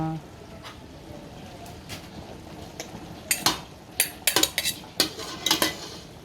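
Half a kilo of ground meat being stirred in a pan with a metal utensil, heard as soft scraping that turns into a quick run of sharp, close clinks and knocks against the pan.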